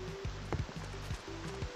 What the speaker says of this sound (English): It's raining too, yeah.